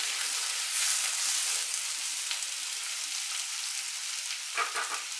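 Indian gooseberries roasting in a pan for pickle, a constant close sizzling hiss with faint crackles and a brief stirring scrape near the end, no voices.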